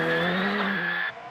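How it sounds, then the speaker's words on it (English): A Mark II rally car's tyres squeal off the start line at the Circuit of Kerry Rally, one loud, sustained, high squeal with engine roar beneath it for about a second before it cuts away. "Burning rubber off the start line, it must be the Mark IIs."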